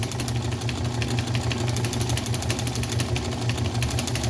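A John Deere tractor engine with a Wico X magneto runs steadily close by, a continuous low throbbing drone with a fast, even pulse and no voices.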